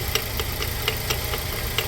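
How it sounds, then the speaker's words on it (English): A 2014 Nissan Juke engine runs with the gear engaged, a steady close mid-pitched hum punctuated by regular light ticking knocks about twice per second. "I've just started the engine and put on the gear."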